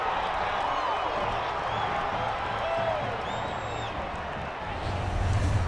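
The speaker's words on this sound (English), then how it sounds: "The crowd really appreciating the block there." A college football crowd applauds a blocked punt at Utah State against Weber State, a steady, moderately loud wash of clapping and cheering with a few whistles and shouts over it.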